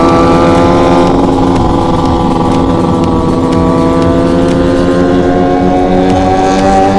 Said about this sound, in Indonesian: Bacot banget tuh motor, sumpah.